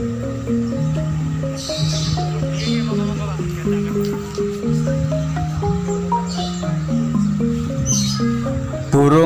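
Puter pelung doves at a bird market in Kupang, Surabaya, give repeated low, rhythmic cooing phrases that run continuously and close up, with faint market noise behind.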